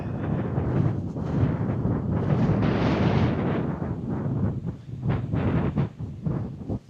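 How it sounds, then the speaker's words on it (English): Strong wind buffets the microphone outdoors beside Cringle Reservoir on the Isle of Man, a loud, rumbling roar that swells and dips in uneven gusts, with no voices. "Yeah, wind is a bit much."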